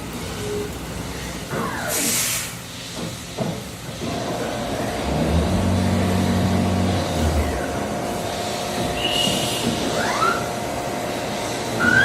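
A 2012 Hyundai HS800 CNC horizontal machining center moves along its axes, giving rising and falling servo whines and a steady mechanical hum over a constant background drone from the shop. A few clunks come at the start and near the end.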